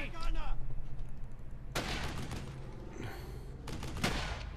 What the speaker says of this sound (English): Yeah, I hear them firing, but I don't see shit.